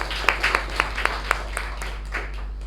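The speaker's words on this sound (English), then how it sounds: "Can we have a round of applause for Toastmaster Ujjwal?" A small group at a Toastmasters meeting gives a round of applause for a member, a handful of distinct claps standing out over a thin, fading patter, with a steady low hum underneath.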